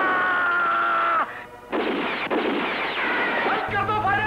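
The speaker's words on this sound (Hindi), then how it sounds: "बंद कर दो फायरिंग, बंद कर दो।" Gunfire in a 1994 Pakistani film scene: loud bursts of shots and blasts rattle after a brief voice, with dense crackling reports filling most of the clip and a tonal sound at the end.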